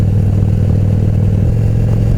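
Loud, steady engine rumble with low droning tones, like motorcycles rolling past close by, continuous and unbroken, no talking.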